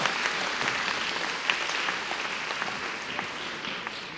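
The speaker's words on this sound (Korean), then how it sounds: "자, 박수로 맞으시기 바랍니다." Audience applause fills a hall at a Jeonbuk National University mock admissions interview, steady and continuous clapping throughout with no pauses.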